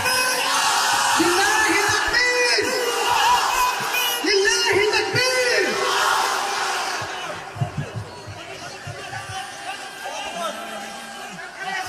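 A large crowd at a Bengali Islamic sermon shouts takbir, loud massed voices yelling together in long swells that then subside into scattered, quieter calls.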